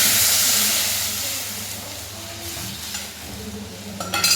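Rasam mixture poured into a hot pan with curry leaves gives a loud, steady hiss and sizzle from the start that slowly fades, with a few sharp clatters near the end.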